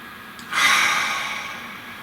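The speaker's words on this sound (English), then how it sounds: "Nice deep breath." One slow, deep breath is drawn in close to the microphone, a soft airy rush that swells quickly and then tapers off in an otherwise quiet room.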